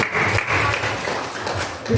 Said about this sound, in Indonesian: Tepuk tangan untuk nomor undi 2